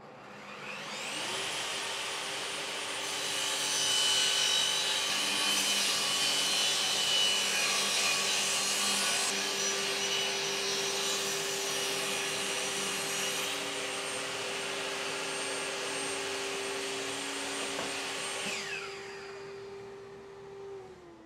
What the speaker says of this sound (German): fangen wir an mit dem Zuschnitt der Bretter